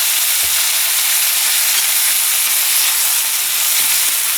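Food stir-frying in a hot pan with a little soy sauce added, a steady loud sizzle with faint stirring scrapes throughout, no voices.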